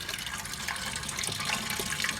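Steady running water during a sparge rinse of drained mash grain for a home-brewed double red IPA, a constant splashy hiss with no break.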